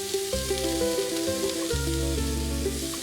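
Onions sauté in the pan used for Tuscan chicken, a steady sizzle running underneath sustained tonal humming and clinks, with no speech.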